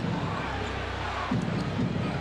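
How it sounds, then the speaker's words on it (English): Lively crowd noise fills a basketball arena during an NBA game between the Bucks and Knicks in 1997-98, a steady roar that swells louder near the end under faint commentary. "Crowd very much alive once again."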